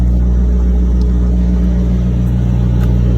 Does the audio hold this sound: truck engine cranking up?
yes